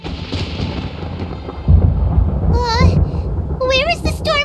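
Thunder from a storm in Genshin Impact booms in with a heavy low rumble midway, rolling on under bright, warbling chimes and voice-like chatter from the game.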